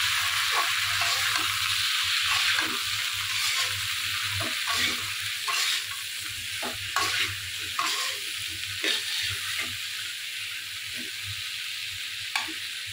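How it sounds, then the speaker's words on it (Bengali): Vegetables for a rohu fish curry fry and are stirred in a pan, a steady close sizzle broken by repeated clatters of the spatula scraping through the pieces. "এখানে আমি মাছ দিয়ে যে সবজিগুলো রান্না করব আমি একটু ভেজে নিচ্ছি"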